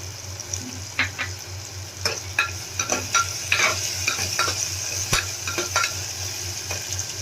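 Cluster bean curry with turmeric and salt sizzles in oil while a spoon stirs it, soft scraping strokes and clinks over a steady low frying hiss, close and fairly quiet, without talk.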